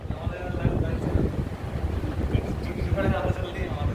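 Gusty wind buffets the microphone in low rumbling bursts while people talk over it.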